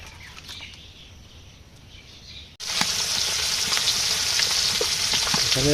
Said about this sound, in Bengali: মাছটা ভেজে নিচ্ছি।